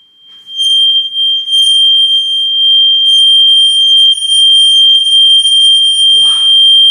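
A rod rubbed with rosin sings out a piercing, loud, sustained high ringing tone that starts almost at once and holds steady for several seconds, ending with a brief rustle of handling.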